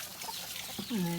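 Chickens at a hillside farm cluck briefly and quietly, with one clearer call near the end over soft background noise.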